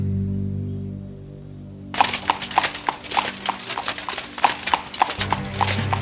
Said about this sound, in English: Damn that horse!